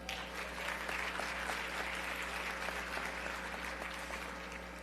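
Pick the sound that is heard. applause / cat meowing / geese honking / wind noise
applause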